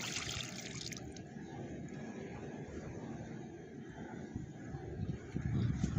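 Steady rushing and gurgling of water pushed through a pump, continuous and fairly close, with a low mechanical churn underneath.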